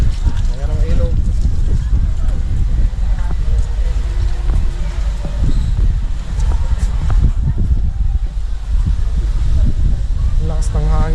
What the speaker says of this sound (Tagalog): Ang lakas ng hangin dito mga kulitos.